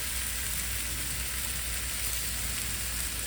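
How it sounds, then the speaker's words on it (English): Oxtails frying in a pot make a steady, soft sizzling hiss, like light rain, constant and even with no talking. "I'm going to let these fry a little back"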